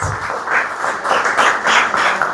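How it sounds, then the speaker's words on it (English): An audience at a primary school gathering applauds the councillors, a short, steady round of clapping from a crowd, fairly loud and close with no talk. "Give them a round of applause."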